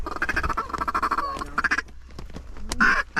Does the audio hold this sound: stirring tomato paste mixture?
no